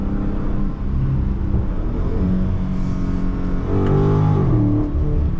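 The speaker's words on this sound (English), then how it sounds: "I'm literally full throttling it damn near every time" A Dodge Challenger Scat Pack Widebody engine at full throttle with little traction, a loud, close, continuous roar with rising and falling revs across the whole stretch.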